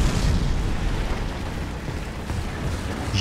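Artillery explosions in War Thunder during a tank battle, a continuous heavy rumble of booms filling the space, loud and low without clear separate blasts.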